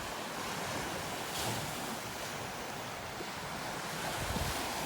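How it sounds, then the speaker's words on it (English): Wind blowing in off Lake Superior at a lakeside campground, a constant loud rushing roar with buffeting gusts against the microphone and a surf-like wash underneath, with no talking. "That is a biting breeze off of the lake."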